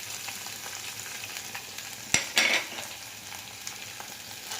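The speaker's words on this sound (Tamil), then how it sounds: "இஞ்சி பூண்டோட பச்சை வாசனை போகிற அளவுக்கு வதக்கிக்கணும்." Ginger and garlic sautéing in a pan, a quiet steady sizzle with light stirring and a brief louder burst of scraping and clatter partway through.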